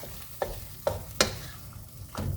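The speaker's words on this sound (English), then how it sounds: "It's already sizzling." Vegan chicken korma made with Just Meat Company plant-based meat sizzles steadily in a pan, broken by a few sharp scraping stir strokes, close and alone with no talk.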